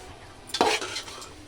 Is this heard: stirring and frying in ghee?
yes